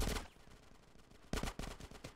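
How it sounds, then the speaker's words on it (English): Bursts of gunfire in GTA San Andreas, during a shootout with police at Los Santos: a rapid volley of loud close shots, a brief lull, then another sharp cluster of rapid reports. "Get some suppressing fire in there!"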